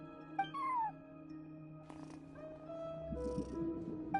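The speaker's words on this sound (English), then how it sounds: "cat watching over the front desk. Excuse... meow?" A cat meows at a hotel front desk in Genshin Impact: one clear rising-falling meow near the start, followed by softer purring and chirping over quiet ambient game music.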